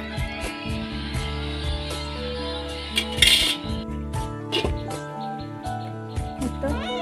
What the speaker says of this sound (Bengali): এখন আমি ঢাকনা দিয়ে ঢেকে দেব।